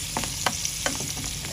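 Onions frying in a hot pan, a bright steady sizzle with a few sharp crackles and stirring scrapes, loud and close with no talking.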